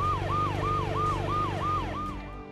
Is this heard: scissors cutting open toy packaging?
no